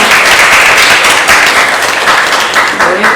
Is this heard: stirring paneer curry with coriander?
no